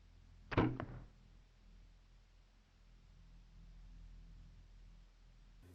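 A single sharp snap of a Strother SX1 compound bow releasing an arrow, close and sudden, followed by a quiet, steady background hush.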